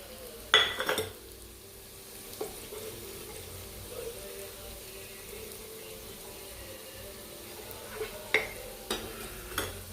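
Spice powders for a mackerel curry fry and are stirred in a pan over a low, soft sizzle, with a few sharp scrapes and clinks of the spoon at the start and near the end.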